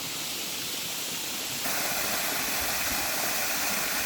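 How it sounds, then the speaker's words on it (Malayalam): Thoomanam waterfall pours as a steady broadband rush of falling water, close and continuous, growing louder and fuller about halfway through, with no voices. "ഇതാണ് ശരിക്കും വാട്ടർ ഫോഴ്സ് ഈ ഭാഗത്ത് തൂമാനം വെള്ളച്ചാട്ടം എന്ന് പറയുന്ന"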